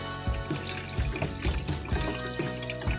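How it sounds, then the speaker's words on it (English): Hot water runs from a tap into a sink during a box makeover, a steady close splashing stream with uneven pulses and gurgles. "Hot water."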